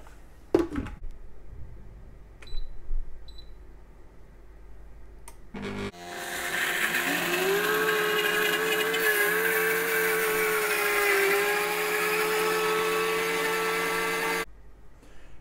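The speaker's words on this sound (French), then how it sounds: "la pâte de curry, fermer le blender" A few soft knocks and clicks, then a blender whirs up loudly, mixing curry paste with coriander, and runs steadily at high speed for about eight seconds before stopping abruptly.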